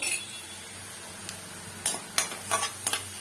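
Onions cooking with a pinch of salt in a pan for vangi bath, giving a steady close sizzle with a few louder scraping stirs near the end.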